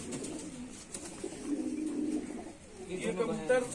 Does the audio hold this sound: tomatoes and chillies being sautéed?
no